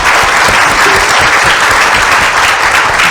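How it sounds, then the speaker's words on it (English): Steady, loud applause from a media festival audience fills the whole stretch, a dense wash of many hands clapping at once with no voices standing out. "Please give him a round of applause."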